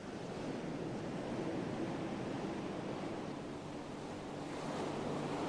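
Steady ocean surf rolls continuously at a low, even level, a broad soft wash of waves with no talk over it.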